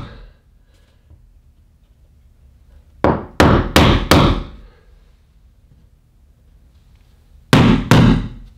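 Nails are set into board and batten trim on a bedroom accent wall by striking a screwdriver with a hammer: a quick cluster of four sharp metallic taps, a pause, then two more close, loud blows.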